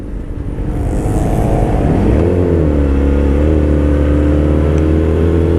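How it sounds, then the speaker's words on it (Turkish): A sport motorcycle's loud exhaust, either a Yamaha R6 or a Honda CBR1000RR, idles roughly, then revs hard and holds a steady, booming high-rpm roar close by, with no talking. "Bu egzoz ne böyle? Çok bağırıyor kanka bu."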